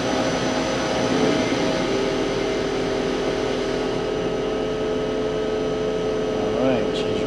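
A boat's sea water pump and compressor run steadily, a loud continuous mechanical whine and hum with tonal overtones, a brief voice briefly heard near the end.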